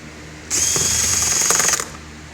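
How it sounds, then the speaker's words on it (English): A power drill removing a bolt from a GM truck door whines at high pitch for just over a second, starting and stopping abruptly, loud and close with a slight rattling texture. "I've got it set up to work with the drill here, so it's a little bit faster"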